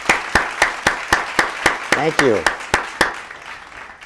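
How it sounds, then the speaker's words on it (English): Applause for a state senator comes as a few steady, evenly spaced claps, close and sharp, while a voice speaks briefly over them. "let's give a big round of applause"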